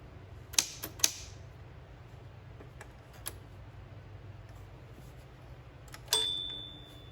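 Smith Corona Super Sterling typewriter from the 1960s, with a few sharp clacks from the carriage being slid by hand, scattered faint ticks, then a single clear ring of the margin bell near the end that fades away, all in a quiet room.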